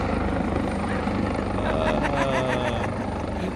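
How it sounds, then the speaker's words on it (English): Helicopter rotor thumping and engine drone fill the whole stretch, loud and steady as if from inside or close by, with faint voices underneath. "here he comes in his own helicopter"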